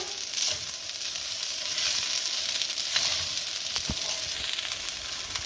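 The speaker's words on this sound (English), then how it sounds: "You keep turning it because you don't want to stick to the pot because of the high heat" Spicy vegetable fried rice being stirred in a pot over high heat, a loud steady sizzle with occasional scrapes and knocks from turning it.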